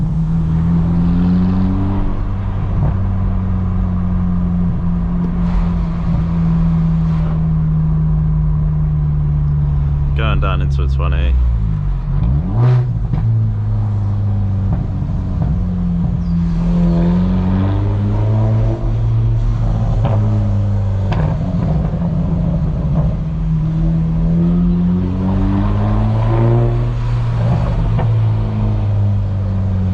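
A BMW 1 Series cruises down a country road, its engine droning and rising and falling through the gears. A few sharp exhaust pops crackle through, and the driver talks over the engine noise.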